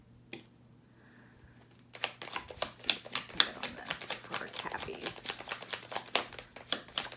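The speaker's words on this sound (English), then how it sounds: "Just going to do a quick shuffle." A brief tarot card flick, a pause, then a quick stretch of rapid riffling and snapping as the tarot deck is shuffled close up.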